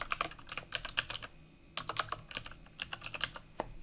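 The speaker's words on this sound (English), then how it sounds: "you're going to go ahead and type in my email address" Someone types an email address on a computer keyboard, a close, quiet run of quick clicking keystrokes in uneven bursts with a short pause midway.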